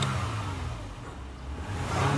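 Engine of an adapted van revving as the gas pedal is pressed, a low steady rumble that swells slightly toward the end, heard from inside the vehicle without talk.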